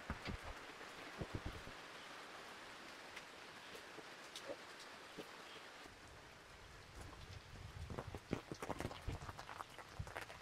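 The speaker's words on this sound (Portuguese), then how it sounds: "Tá chovendo desde as de 1 hora da tarde." Steady rain falls in the Santa Luzia riverside community in the Amanã interior of the Amazon, hissing faintly and continuously with scattered drip and patter impacts that thicken toward the end, and no talking.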